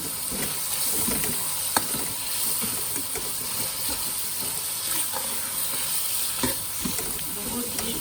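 Spices and tomatoes frying together in a pan for mutton karahi, a loud continuous sizzle and hiss with scattered stirring clicks and scrapes near by.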